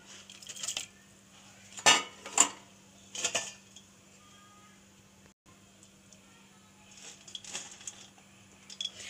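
Sangri pods being put into a pressure cooker half filled with water, with a few sharp metallic clinks and clatters of pot and utensils spaced through quiet kitchen background.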